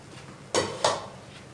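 A spoon scrapes and knocks against a pan while semolina halwa cooks, making two sharp clanks close together and then quiet.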